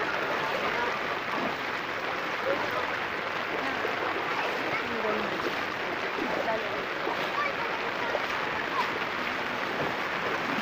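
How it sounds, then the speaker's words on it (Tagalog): Strong rushing floodwater, a dense steady roar of churning, splashing water close by, with a faint voice murmuring briefly underneath. "Oh, lakas ng tubig oh."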